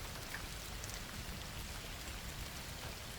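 Steady rain falls on a stormy night, a soft continuous hiss of drops on surfaces that holds evenly throughout, fairly quiet and with no voices.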